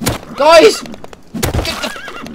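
Horse whinnies in the survival game Rust, two loud neighs with rising and falling pitch and faint hoof clops underneath, mixed with someone shouting in between.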